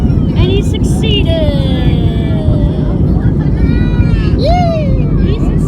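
A passenger plane roars steadily on the runway during takeoff, a loud, constant engine rumble heard from inside the cabin while people talk and exclaim over it throughout.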